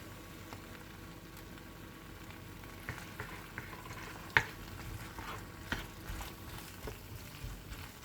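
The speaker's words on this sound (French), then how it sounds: "On mélange bien." A turkey, bacon and pearl pasta dish loosened with a splash of milk is stirred in a pan, giving soft, faint scraping and occasional light clicks over a low, gentle sizzle, with no voices.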